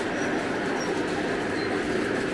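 Lionel O gauge BNSF model train running on a winter layout's main line, a steady close rolling rumble with faint rhythmic wheel clicks throughout.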